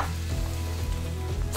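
Celery root and broccoli sautéing together in a pan give a steady, moderate sizzle with low rumbling undertones, close and continuous with no talking.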